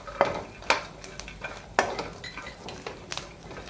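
A spatula scrapes and clinks against a hot pan as ginger and garlic roast for spicy chutney, a few distinct knocks over a faint, steady sizzle, close and fairly quiet, with no voices.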